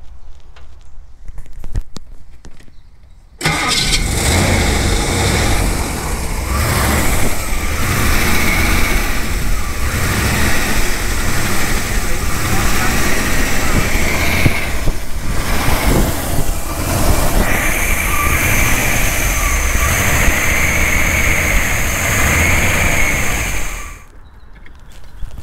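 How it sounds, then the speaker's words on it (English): A 1962 Ford Thunderbird Sports Roadster with a 390 high-horsepower V8, four-barrel carburetion and dual exhaust settles into a loud, steady idle after a cold start, a continuous close rumble lasting about twenty seconds with no talk. "It does have the 390 high horsepower V8 engine with a four-barrel carburation and the dual exhaust system."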